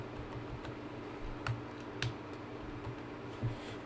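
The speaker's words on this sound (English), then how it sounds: "press F on the keyboard" Soft keystrokes on a computer keyboard while editing in After Effects, a few separate clicks and taps spaced irregularly over a low hum, fairly quiet and close.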